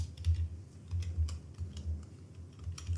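Soft, quick clicking of keys as the word earphone is typed on a computer keyboard into an Excel sheet, faint and close, with a low hum underneath.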